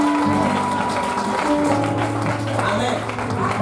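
A church congregation at a wedding ceremony applauds and cheers in sustained, dense clapping throughout, with voices and shouts mixed into the crowd noise.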